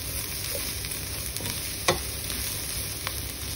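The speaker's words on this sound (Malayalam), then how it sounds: "10 minutes കഴിഞ്ഞപ്പോൾ ഞാൻ ജസ്റ്റ് ഇങ്ങോട്ട് ഇളക്കുന്നുണ്ട്" Banana stem stir-fry being turned in a pan, with a soft continuous sizzle and faint scraping as it is stirred, including one brief louder clack of the spoon partway through.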